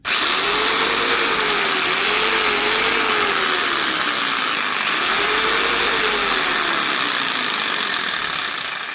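Old Budget BSS5705P jigsaw motor running steadily at its top speed setting 6, a loud continuous whirring drone with slight wavering pitch, close and alone throughout.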